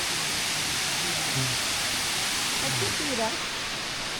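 Water at the top of Kuang Si waterfall near Luang Prabang, Laos, flows down over the tiers in a steady broadband rush, with faint voices in the background.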